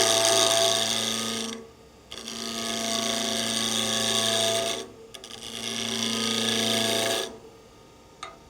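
A gouge cuts a small wooden nut bowl spinning on a lathe, giving three sustained scraping, rasping passes with a steady motor hum beneath, broken by brief pauses and without voices.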